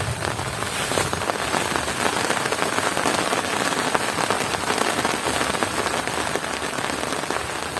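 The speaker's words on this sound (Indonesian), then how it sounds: "Hujan." Steady, dense rain patters on a surface, loud and continuous with no pauses, and no voices.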